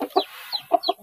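Newly hatched village chicken chick peeping in a few short, bright chirps, with a pause between the first call and a quick pair near the end, close and moderately loud.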